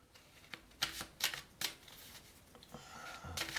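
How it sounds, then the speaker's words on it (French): Tarot cards are shuffled and drawn by hand in a few quick, crisp riffling bursts, close and fairly quiet, followed by softer card handling. "On peut peut-être tirer à ce moment-là aussi les cartes du manuscrit."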